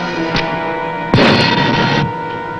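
A submarine torpedo launch: a brief thud near the start, then a loud broad whoosh of compressed air lasting about a second before cutting off, heard up close over a steady mechanical hum.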